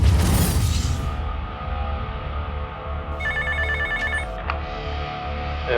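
A telephone rings with a repeated electronic trill partway through, following a loud whoosh, with no one speaking.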